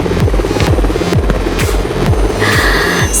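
A helicopter passes overhead during an outdoor prom night, its rotor beating in a loud, steady rhythmic thump of about two pulses per second, with the pitch sliding repeatedly as it moves.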